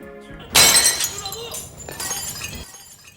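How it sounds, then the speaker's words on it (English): Sharp crash of glass breaking in a film scene, a loud shatter followed by tinkling fragments, then a second smaller clatter and settling debris. "we hear the striking sound of glass breaking as we snap back into the present"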